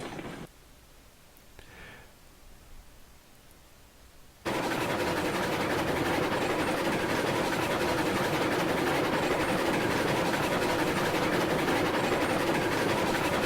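In the Railroads Online game, a train locomotive climbs a hill under added throttle. A quiet stretch with a faint tone jumps suddenly to a dense, constant engine-and-rail roar that holds steady and loud to the end.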